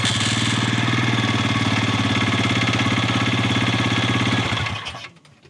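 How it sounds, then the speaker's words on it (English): A 2025 Bighorn 450 Pro Max UTV engine runs at a steady, loud, rapidly pulsing idle for several seconds close by, then is cut off and falls quiet near the end. "All right, here we go. We're going to start it up."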